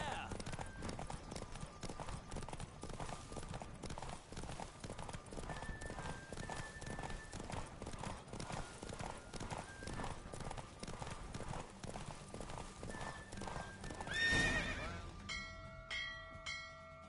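Rapid galloping hoofbeats pound along in a quick, steady rhythm during a horse race in The Witcher 3, with voices speaking at times and a bright chime near the end.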